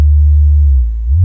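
A steady low bass test tone plays through a KEF 104/2 loudspeaker's crossover, a loud continuous hum that dips slightly near the end, with no voices.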